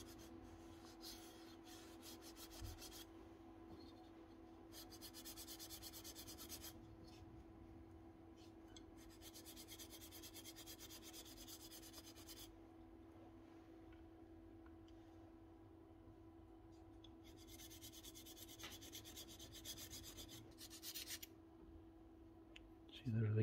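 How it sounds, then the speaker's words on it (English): A hand file rasps back and forth on a metal power tool part during a repair, bursts of scraping strokes separated by pauses over a low steady hum. "Just need to file it down here."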